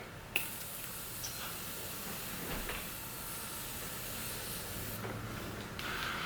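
A soft, steady hiss of Morphe Set and Refresh setting spray mist runs through the whole stretch, opening with a tiny click and shifting slightly in tone toward the end.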